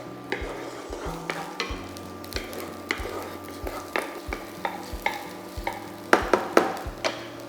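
Spring onions fry in hot oil while a wooden spoon stirs them, adding steady close scraping knocks over a soft, continuous sizzle, with no talking.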